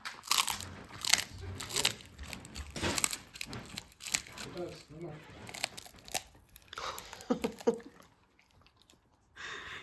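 A dog chews and tears at a treat in close, irregular bursts of crunching and shredding, with pauses between bites and a few quiet gaps toward the end.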